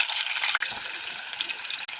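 Onions fry in hot oil seasoned with cumin, mustard seeds and chana dal for a bottle gourd curry, giving a steady close crackling sizzle with no voices.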